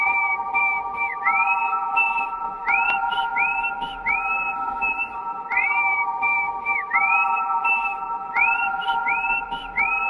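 Someone whistles a tune alone, clear and fairly close, in short repeated phrases with rising swoops and brief pauses.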